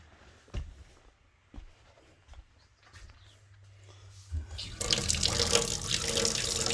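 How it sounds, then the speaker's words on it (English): A few scattered knocks and a low hum, then a water pump aboard an MCI MC9 bus conversion kicks in with a loud, continuous rush of flowing water. "I don't know if you can hear the water pump"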